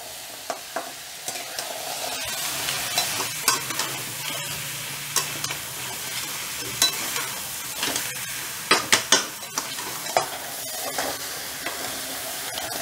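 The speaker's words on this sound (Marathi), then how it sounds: "खेकडे चांगले 7 ते 8 मिनिट आपण परतून घेऊ." Crabs stir-fry in a pan, a continuous sizzle broken by repeated scraping stirs and clattering taps of the spatula, close and moderately loud with no voices.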